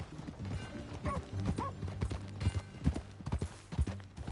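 Horse hooves clip-clop in a steady trotting rhythm in the video game Red Dead Redemption 2, close and fairly loud, with a faint voice and light mechanical creaks mixed in.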